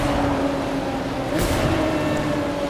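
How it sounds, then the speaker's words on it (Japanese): A Porsche 911 Speedster (991, final model) in the racing game The Crew 2 holds a steady, close engine drone with a constant low hum, running alone without talk. "エンジン音聞いてみたいと思います"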